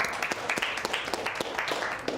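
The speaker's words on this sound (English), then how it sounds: "Can you all give yourselves a round of applause?" A classroom of students gives themselves a round of applause, a short burst of uneven, somewhat sparse hand claps with a few sharper individual claps, moderately loud and close.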